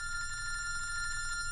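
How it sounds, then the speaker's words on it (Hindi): An electronic telephone ring trills steadily and continuously at moderate volume, with a low background hum and no voices, in a scene from the Hindi film Gadar 2. "फोन उठा, मेरा फोन उठा।"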